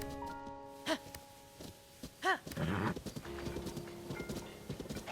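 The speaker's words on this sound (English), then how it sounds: "We ride again, Epona." Epona, a horse in Zelda: Tears of the Kingdom, snorts and whinnies with hoofbeats in the game, a couple of distinct loud equine calls over soft background music.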